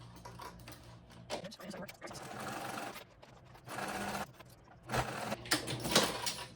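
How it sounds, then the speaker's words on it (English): Sewing machine stitching the bottom pieces of a fabric backpack together, running in several bursts of rapid whirring with short pauses between them, fairly close and steady. "go ahead and sew your bottom pieces together"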